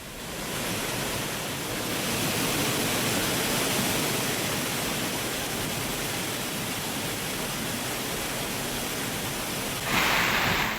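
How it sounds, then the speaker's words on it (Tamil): Floodwater thunders over Thiruparappu falls in full spate, a dense, steady roar of rushing water that holds constant throughout and swells slightly louder near the end, with no voices heard. "திருப்பரப்பு அருவியில் வெள்ளப்பெருக்கு ஏற்பட்டுள்ளது"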